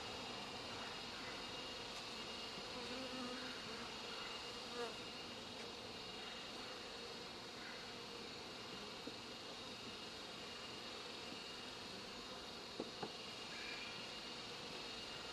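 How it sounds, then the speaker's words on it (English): Bees hum steadily inside a crowded hive in a busy bee yard, a faint continuous drone with a few brief clicks and bumps close by. "Yeah, there is a lot of bees in here."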